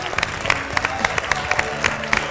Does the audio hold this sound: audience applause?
yes